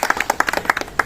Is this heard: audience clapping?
yes